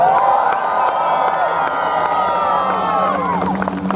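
Crowd at a seaside night airshow with fireworks in Clacton cheers and shouts together, a loud sustained roar of many voices with children's whoops mixed in.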